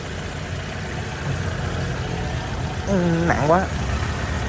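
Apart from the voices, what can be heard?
2011 Chevrolet Aveo 1.5 engine idling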